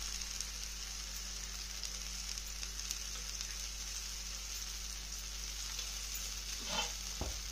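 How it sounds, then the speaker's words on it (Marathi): Folded flatbread frying in ghee in a pan for a fasting thali, a steady, even sizzle that runs throughout at moderate volume, with a couple of brief handling sounds near the end. "कडेनं थोडंसं तूप सोडून घेऊया."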